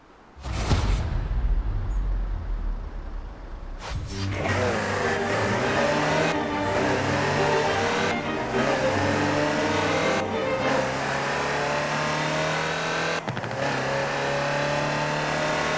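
A Land Rover Type 3 utility vehicle in Forza Horizon 4 starts with a sharp burst, then its engine drones and revs loudly and close, rising in pitch through several gear changes with brief dips between them, with no voices.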